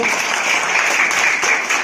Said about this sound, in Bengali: জোরে হাততালি নিজেদের জন্য